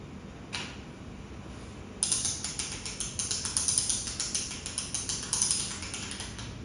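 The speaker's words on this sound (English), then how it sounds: "This workpiece shows that the ratchet mechanism is allowed to turn in one direction only." A hand-operated ratchet mechanism workpiece turning in one direction, giving a steady run of quick, close mechanical clicks as the pawl skips over the gear teeth after a single early tick.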